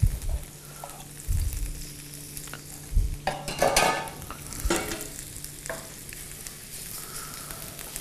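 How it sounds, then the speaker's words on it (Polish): Meat fries in oil in a hot pan, a continuous sizzle broken by stirring scrapes and bumps of a utensil against the pan, close and moderate, with no voices. "Na rozgrzaną patelnię olej. I obsmażamy mięso."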